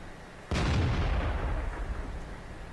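Tank cannon fired in World of Tanks, a single sharp, loud blast followed by a long rumbling decay that hangs for about two seconds.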